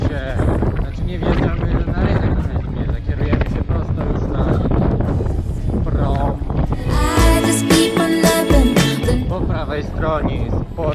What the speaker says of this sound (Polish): ale wiatr jest mocniejszy niż wczoraj